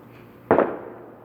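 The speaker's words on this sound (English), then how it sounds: "Those are fireworks." A single firework bang goes off outside, one sharp loud burst that fades quickly into a quiet background.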